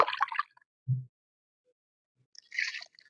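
Fermented banana and jaggery juice poured onto a lemon tree in a terrace garden, heard as brief splashy bursts of liquid separated by silence and a soft thud, with no talking.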